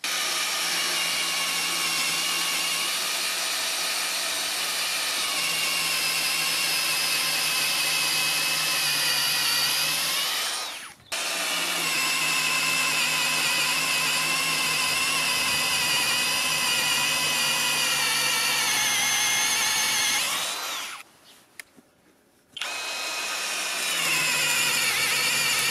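HOTO 12V brushless cordless drill boring holes on a nearly flat battery, a loud high motor whine running in two long steady stretches with a brief stop between and a short pause near the end.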